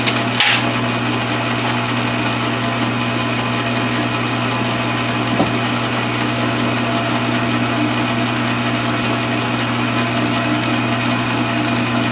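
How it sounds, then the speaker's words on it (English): Steady high-pitched whine of a small center drill cutting a metal part under a constant machine hum, with a brief sharp scrape near the start. "Get a center drill in there."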